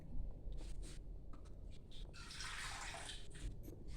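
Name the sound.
pouring water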